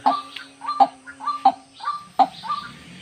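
A male white-breasted waterhen gives a repeated series of sharp calls at a steady pace, roughly one every two-thirds of a second, fairly close and clear, with no other sounds over them.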